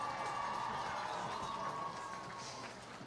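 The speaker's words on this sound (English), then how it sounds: "Everyone, a warm round of applause for Grace Sullivan." Crowd noise from spectators in the stands at a high school football game, a steady broad wash of cheering and clapping lasting the whole stretch, fairly loud and continuous with no clear talk over it.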